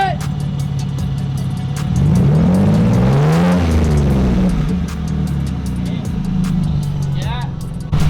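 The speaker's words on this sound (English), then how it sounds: "Rev it a little." A small car with a newly fitted turbo revs loudly at close range, rising to a swelling peak midway before it settles back. People talk over the engine.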